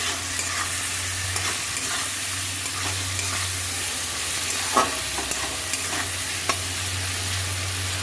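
Ginger and green chili paste frying in a pan while being stirred, a steady soft sizzle with occasional scraping clicks, close and alone without talk.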